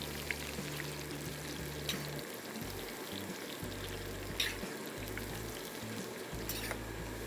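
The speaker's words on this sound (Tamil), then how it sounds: "இந்த பாவக்காய் வந்து நல்லா கிறிஸ்பியாக ஃப்ரை ஆகணுங்க" Bitter gourd slices fry in hot oil with a steady, close sizzle and crackle, and a low humming tone starts and stops underneath.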